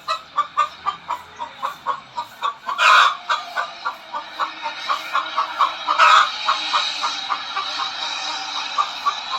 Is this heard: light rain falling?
no